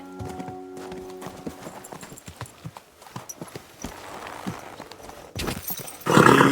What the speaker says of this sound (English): It's a bloody expensive horse.